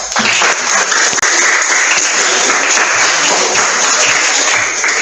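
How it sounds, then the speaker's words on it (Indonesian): A classroom full of students applauds together, producing a loud, dense and unbroken wash of clapping that holds at the same level from start to finish. "Ya, tepuk tangan untuk kita semua."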